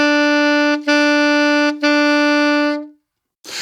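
Sustained alto or baritone saxophone tone, rich in harmonics, cleanly tongued with a ta attack into three separate notes at one pitch; the last is held and fades to silence before a faint noise at the end.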